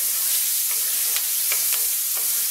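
Onions sauteing over medium heat in a pan, a steady bright sizzle with several soft scraping stirs, close up and with no one talking.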